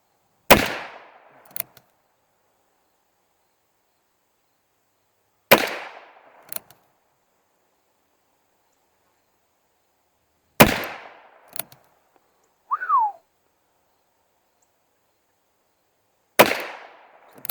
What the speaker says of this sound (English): 6 rounds, 22 Magnum.